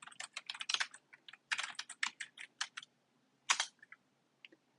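Code being typed on a computer keyboard in quick close bursts of key clatter, with short pauses between runs and a last few isolated taps.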